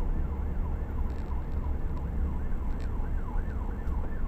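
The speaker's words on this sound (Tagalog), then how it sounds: "Pagbigyan ng ambulansya," Ambulance siren wailing in a steady rising and falling pattern over loud city traffic rumble on the way to Pacific Plaza in Makati, continuous throughout.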